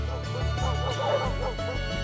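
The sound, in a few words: English Springer Spaniel dogs barking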